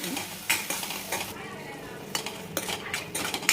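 Cashew paste being stirred in a pan for a restaurant-style kaju curry, with a spoon scraping and clinking against the metal in irregular bursts over a faint background sizzle, close and fairly quiet.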